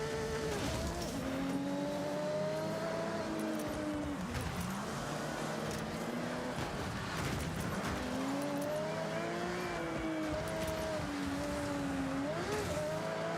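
A car engine revving at full throttle in the racing game Forza Horizon 6, a loud, continuous whine that rises and falls through gear shifts, with tire noise underneath and no talking.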